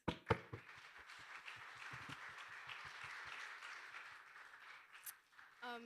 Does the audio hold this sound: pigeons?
no